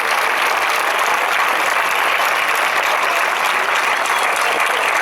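A crowd claps steadily and energetically, loud and sustained throughout, with no talking over it.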